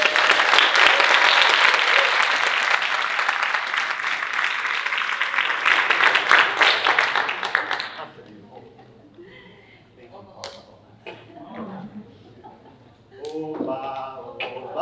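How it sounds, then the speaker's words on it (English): An audience at the 2022 TDF Wendy Wasserstein awards ceremony gives a loud round of applause that lasts about eight seconds, then cuts off abruptly and gives way to scattered talking and light background sounds. "So everyone, let's all give a round of applause to Leo Sandoval."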